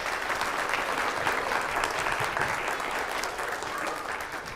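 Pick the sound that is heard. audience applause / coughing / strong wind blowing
audience applause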